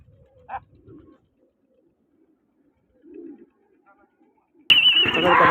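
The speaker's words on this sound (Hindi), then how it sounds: "कबूतर माशाल्लाह उड़ रहे हैं" Pigeons coo softly in a few low, short bursts in an otherwise quiet outdoor scene, followed by a sudden loud burst of noise and someone talking.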